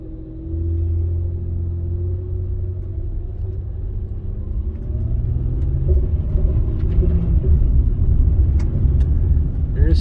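A 2007 Honda Ridgeline driving at low speed under load gives a steady low rumbling drone from inside the cab, growing slightly louder as it goes, with faint clicks near the end.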